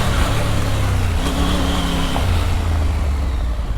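A Triumph Tiger 900 Rally Pro motorcycle pulls up a hill climb in first gear, its engine droning loud and close with a steady, slightly shifting throaty hum throughout.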